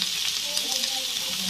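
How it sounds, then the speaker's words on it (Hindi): Banana manchurian frying in a pan, a steady close, loud sizzle with continuous hiss and faint bubbling throughout, with no talking. "फ्राई करेंगे।"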